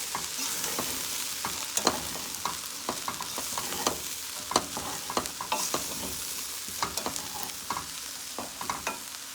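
A spoon stirs cook-up rice with roasted lamb in a pot, scraping and clacking in an irregular rhythm over a soft sizzle, close and moderately quiet, with no talking.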